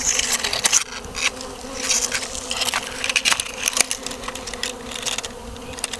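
A honey bee swarm buzzes at the base of a tree stump at a house in Kansas, a dense continuous drone with individual insects flitting close past, no talking.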